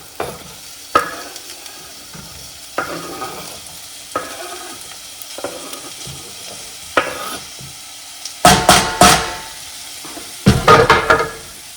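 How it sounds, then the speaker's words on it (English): Onions and apple frying in a pan, a soft steady sizzle broken by repeated scrapes and stirs of a utensil, with a few louder clattering stirs near the end and no voices. "now I'm going to add onions."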